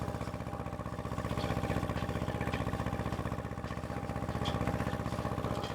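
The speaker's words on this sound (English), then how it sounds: "L1801D. Lovely little Japanese four-wheel drive" Kubota L1801D, a small Japanese four-wheel drive tractor, with its engine running steadily close by, a dense, even rumble with a fast regular pulse that swells slightly and holds throughout, alone without talk.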